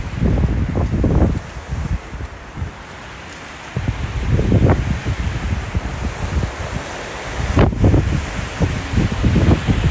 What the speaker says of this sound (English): this wind is crazy. As you can see, it's still just blowing everything crazy out here